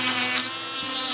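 A battery-operated Belle portable nail drill at 15,000 RPM gives a steady high-pitched whine that dips briefly in the middle, close and alone for about a second.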